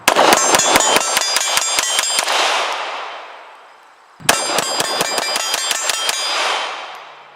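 A CZ P-10C pistol is fired in two rapid strings of about a dozen sharp, ringing shots each at an outdoor range, loud and close, separated by a brief pause.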